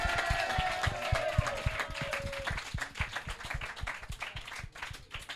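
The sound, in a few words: audience applauding two people on stage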